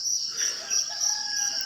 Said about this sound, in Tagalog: Yan yung manok dito.